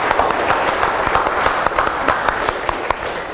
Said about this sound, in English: I want to suggest that we give Chris a round of applause for this.